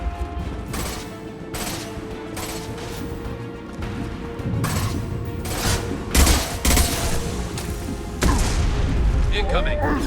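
Gunfire in the video game Mass Effect 2: a loud battle with repeated sharp shots and booming impacts, building to heavier bursts near the end, with in-game voices calling out over the combat.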